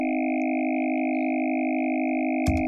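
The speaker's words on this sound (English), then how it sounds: "Okay, so basically these are formants, filters that create vowels." Synthesizer formant filters shape a steady, buzzy tone into a sustained U vowel, three fixed resonant bands holding unchanged for over two seconds before a brief burst cuts in at the end.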